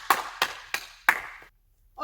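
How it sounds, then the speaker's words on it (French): A handful of sharp hand claps, four distinct slaps spaced evenly and close by, ending in silence, as a parents-and-children lesson group applauds itself. "On peut s'applaudir tous ensemble très fort."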